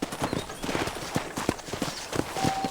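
Horse hooves clip-clop in a steady walking rhythm in the video game Red Dead Redemption on Nintendo Switch, close and moderately loud, with a few sharp thuds among the beats; no talk.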